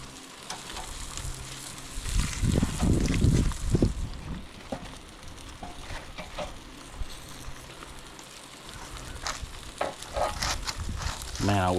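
Rainbow trout from the Toccoa River frying in a pan, a steady sizzle with louder bursts of crackling spatter near the start as the fish is turned, then a softer continuous fry.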